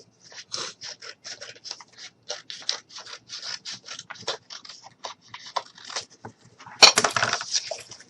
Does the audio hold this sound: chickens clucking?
no